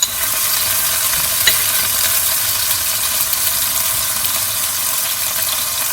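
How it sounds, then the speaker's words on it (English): Green chutney goes into ginger and garlic in a hot pan while cooking a chicken korma, making a steady, loud, close hiss of sizzling oil that holds evenly throughout. "Let's add the green chutney in there as well."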